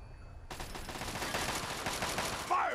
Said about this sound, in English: Are you actually shooting at somebody, Montgomery?